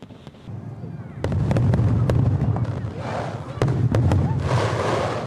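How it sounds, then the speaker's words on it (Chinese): Fireworks burst repeatedly over the Harbin ice and snow festival, sharp booming cracks arriving in quick succession with crackling tails, amid crowd noise and voices. "我一开始来，我是不知道它这里有烟花的。"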